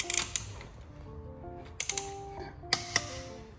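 Torque wrench ratcheting while tightening T80 lug bolts on a Lamborghini Huracan wheel in a star pattern, heard as a few short bursts of crisp metallic clicks separated by brief pauses, close and fairly quiet.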